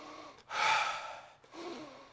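Audible breathing shown during a sleep apnea explanation: a short breath, a pause, then a longer, louder airy breath and another softer one. The breathing is close and clear, with no talk over it.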